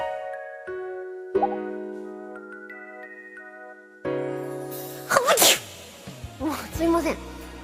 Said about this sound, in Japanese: くしゃみに出てしまいました。